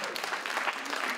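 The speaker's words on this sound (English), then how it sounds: "another round of applause at the press" Applause breaks out at a press conference for a Nobel Peace Prize concert, a brief dense wash of clapping at moderate level that may carry some crowd murmur.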